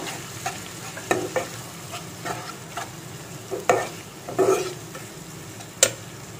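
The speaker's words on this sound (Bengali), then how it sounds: "এবার আমি মশলাটাকে ভালোভাবে কষিয়ে নেব" A ground spice paste of cumin, garlic and ginger is stir-fried for a rohu fish kalia, a close sizzle with irregular scraping and clinking strokes of the spoon against the pan.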